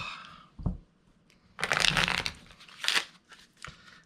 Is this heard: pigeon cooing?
no